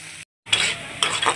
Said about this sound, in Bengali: চলো আমি পেঁয়াজটা ভেজে নিই ভালো করে